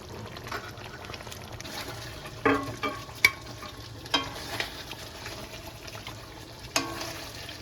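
Mutton sautéing in a pot with a little water added bit by bit, a low steady sizzle under scattered sharp clinks and scrapes of a stirring spoon against the pot.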